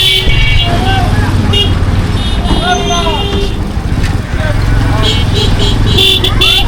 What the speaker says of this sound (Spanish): Mamita, qué tráfico,